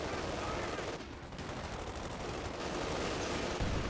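Rapid bursts of gunfire crackle continuously through a tank battle video game, dense overlapping shots under a steady roar of combat noise with a brief dip before the firing resumes.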